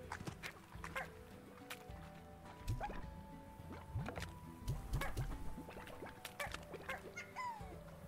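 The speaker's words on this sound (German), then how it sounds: "Hier sind auf jeden Fall viele Hühner." Many chickens cluck and squawk across a Slime Rancher game scene, fairly quiet, overlapping calls and short honking cries scattered over a low ambient hum, with no talking.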